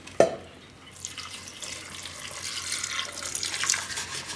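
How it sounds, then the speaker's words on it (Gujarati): Water pours into a pressure cooker in a home kitchen while soya chunks are being cooked, a short clatter at the start followed by a steady, hissing splash that builds slightly over a few seconds, nearby and with no voices. "આ રીતે આને આપણે કુકરમાં લઈ લેવું, ને આમાં આપણે નાખીશું થોડુંક પાણી."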